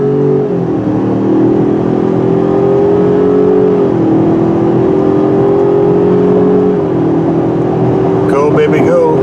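A 2020 Ford Ranger 4x4 with a four-cylinder EcoBoost turbo engine hums steadily from inside the cabin as it accelerates, the pitch rising and stepping down at gear shifts, with no talk over it.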